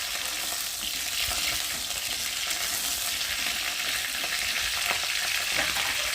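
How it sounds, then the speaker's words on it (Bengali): Cauliflower pieces fry in hot oil with a dense, constant crackling sizzle that stays close and even throughout. Faint stirring sounds come through now and then, and nobody speaks. "আর এখন কপিগুলোকে আমি ভালো করে ভেজে নেব।"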